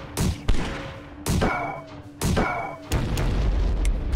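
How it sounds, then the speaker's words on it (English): Mortar fire in the video game Ironclad Tactics, several heavy booming thuds in quick succession with ringing tails, loud and close with a rumbling low end. "Shoot the mortar."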